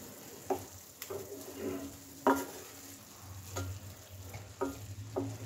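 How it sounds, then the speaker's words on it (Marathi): Crushed peanuts are stirred into vegetables frying in a pan, a soft sizzle beneath a series of distinct scraping strokes and light clinks against the metal, close and quiet with no talk. "हा शेंगदाण्याचा कूट जो आहे तो व्यवस्थित मी ह्याच्यामध्ये काय करते, मिक्स करून घेते"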